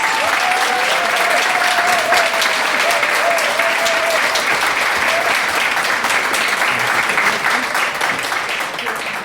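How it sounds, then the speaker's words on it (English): Sustained applause from an audience at an educator award ceremony, a dense steady clapping that fills the room and slowly tapers near the end. "let's give a major round of applause for Antoine, and congratulations"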